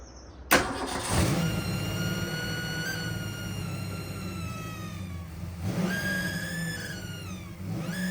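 A Ford 5.0L V8 swapped into a Toyota pickup cranks and fires on its first start, then settles into a loud, steady run with rising and falling revs that surge near the end.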